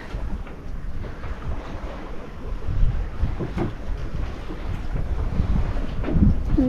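Sailboat under way in light wind at about 3.4 knots, with a steady low rush of wind and water and a few soft, brief flaps of loose sail canvas, no talking.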